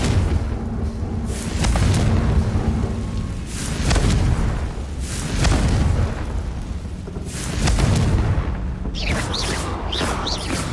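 Confringo explosive spell blasts in the video game Hogwarts Legacy: a series of heavy, rumbling booms about every two seconds, each swelling and fading, loud and close.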